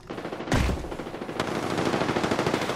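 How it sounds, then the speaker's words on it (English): Rapid gunfire in a battle royale video game firefight, a sharp loud burst followed by sustained, steady automatic shots continuing throughout, close and dense with no talking. "I am taking fire, friends."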